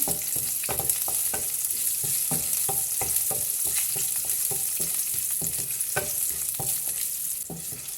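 Cumin, peppercorns, curry leaves, chilli and garlic sizzle in hot oil for a raita tempering, a steady close frying hiss broken by frequent clinks and scrapes of stirring, with no talk.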